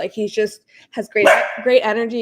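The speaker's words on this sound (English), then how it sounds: "Sorry about my dog. I guess he was excited too." An excited dog barks once loudly and close during a conversation, a sharp burst between stretches of a person talking.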